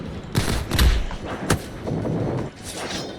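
Gunfire in a Roblox shooting game, several loud sharp booming shots in quick bursts with rumbling thuds between them, close and harsh, heard alone without speech.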